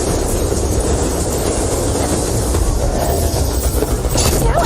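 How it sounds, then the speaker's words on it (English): A video-game train pulls away with a loud, continuous rumble, the rolling clatter of rail wheels and wagon noise filling the scene, steady throughout with a faint high squeal near the end. "The train's pulling away."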